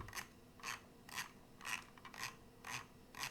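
Scroll wheel of a 2011 Razer Boomslang gaming mouse spun in short close bursts, each a rapid run of tactile ratcheting clicks, repeating about every half second.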